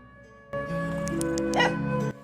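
A dog in a cozy British village mystery game, Toby, gives a short yipping, whimpering bark over steady game music, close and fairly loud.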